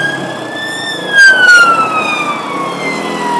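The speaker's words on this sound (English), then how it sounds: "that was an ambulance." An ambulance siren wails at a distance, its pitch sliding slowly downward as it passes, over a low traffic rumble.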